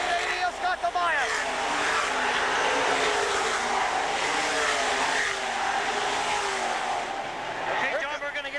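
Race cars roar through turns 3 and 4 of a dirt oval in a feature event, a loud continuous engine drone from the pack, with a commentator talking over it throughout.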